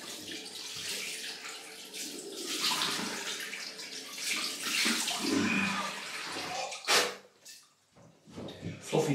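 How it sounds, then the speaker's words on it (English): Cold tap water runs into a sink as a face is rinsed during a wet shave, a steady broadband splash with brief breaks and a few louder surges near the end. "Cold water rinse again."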